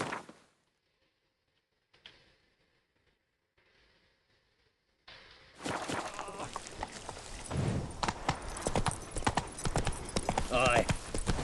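Roach the horse gallops in The Witcher 3, hoofbeats rushing in loud and close after a few seconds of near silence, with a voice briefly heard.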